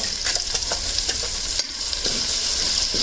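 An onion, garlic, ginger and tomato masala paste frying in oil in a pan for matar paneer kofta curry, a steady close hiss and sizzle with soft scraping stirs, and no talking.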